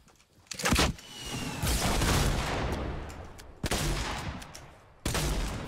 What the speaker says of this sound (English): Somebody else is shooting at us here.